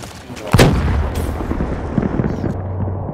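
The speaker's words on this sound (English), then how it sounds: "Grenade!" A grenade goes off in a video game: one loud, sharp blast with a rumbling tail, followed by lingering battle noise and distant thuds.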